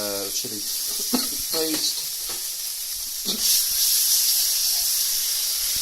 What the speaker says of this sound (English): So I think this wok is getting hot now. In with the chili paste.